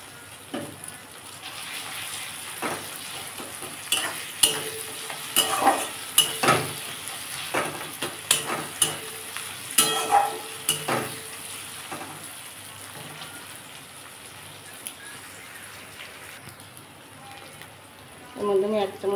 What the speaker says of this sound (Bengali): আমার পেঁয়াজটা ভাজা হয়ে গেছে। আমি এর মধ্যে আদা রসুন পেস্টটা দিয়ে দেবো।